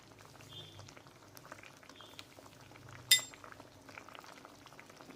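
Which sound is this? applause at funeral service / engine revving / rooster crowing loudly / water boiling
water boiling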